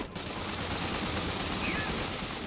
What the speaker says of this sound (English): We got machine gunners attacking us.